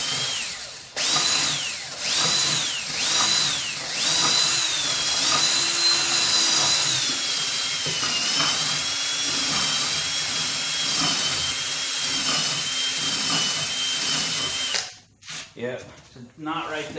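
A power drill bores holes through a knot in a piece of wood with a Harbor Freight carbide-tip adjustable circle cutter nearby. The whine is loud and close and runs almost continuously, with a few pitch changes as the bit bogs and frees, then it stops near the end.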